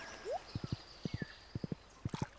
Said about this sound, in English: Let's use my horse.